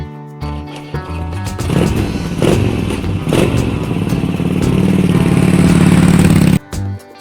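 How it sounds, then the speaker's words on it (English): Scooter engine running steadily and loudly, a continuous buzzing drone with a few clattering thumps, rising slightly before cutting off near the end. "Scooter."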